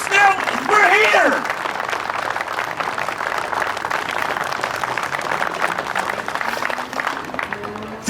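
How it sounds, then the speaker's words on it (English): Crowd clapping steadily at a youth opening ceremony, a dense wash of hands that carries on for several seconds, with a voice calling out briefly near the start and chatter underneath. "Keep clapping"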